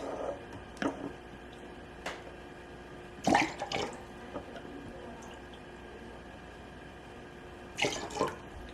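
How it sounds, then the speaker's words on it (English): Apple juice is poured out in two shots. Short, faint splashing pours come and go, with one clearer burst partway through and another near the end, separated by quiet background. "We'll do 2 shots of the apple juice."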